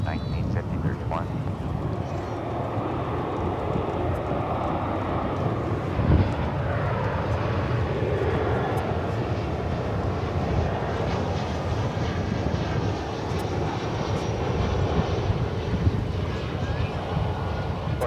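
An airliner taking off from runway 18 Left at Dallas/Fort Worth Airport, a steady broad engine roar with wind noise that holds loud and even throughout, while a tower controller's radio voice speaks over it.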